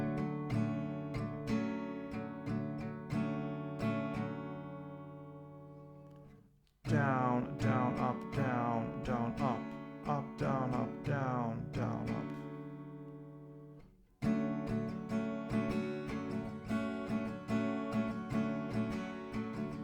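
Acoustic guitar strummed slowly and steadily in a down-down-up pattern, each chord ringing out in clear repeated strokes, with brief pauses near seven and fourteen seconds before the strumming resumes; no talking over it.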